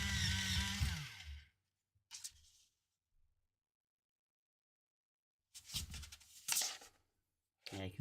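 Sharpening during papercraft work on a 2D Enterprise NX-01 model: a close, raspy grinding burst opens, followed by quieter scraping bits and a couple more short rough bursts separated by silence.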